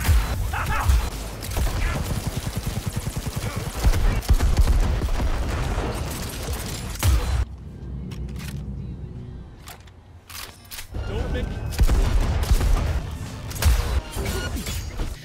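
Pistol, sniper and shotgun fire in the video game Cyberpunk 2077, rapid bursts of sharp punchy shots with impacts, loud and dense, pausing in the middle before resuming, with some talk over it.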